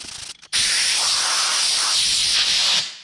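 A car bonnet is sanded by hand with a long sanding block and 240-grit paper during a Suzuki Stockman LJ81 restoration, a loud close continuous abrasive hiss after a brief pause.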